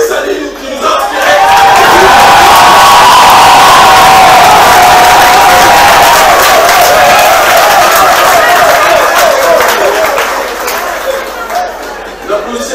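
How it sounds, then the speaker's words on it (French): A large crowd at a political speech about Haiti erupts in loud cheering, shouts, whoops and clapping, swelling quickly and holding at full volume before easing slightly toward the end. "N'applaudissez pas trop fort,"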